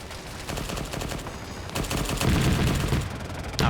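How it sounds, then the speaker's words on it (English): Sustained automatic gunfire in a first-person shooter game, a dense rapid burst of shots that keeps rolling for several seconds with a final sharp crack, no voices. "Oh, he started firing on his own there."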